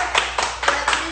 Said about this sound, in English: let's give a special clap to my mommy